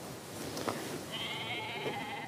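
A faint goat bleat wavers in the distance over soft background noise on a farm, held for about a second near the end.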